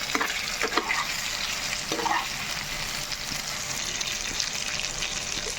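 Fried taro root pieces stirred in a pan, close and continuous: a steady sizzle overlaid with scraping spatula strokes and soft clacks of the pieces turning over.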